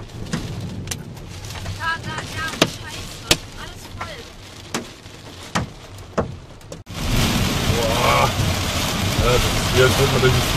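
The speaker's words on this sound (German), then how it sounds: "Ein heftiges Unwetter mit Starkregen und bis zu golfballgroßen Hagelkörnern hat am Samstagabend Bretten in der Nähe von Karlsruhe heimgesucht." Heavy rain and hail from a violent storm with golf-ball-sized hailstones in Bretten near Karlsruhe, a steady loud downpour with sharp hail impacts, building to a dense, roaring rush of rain partway through, with voices over it.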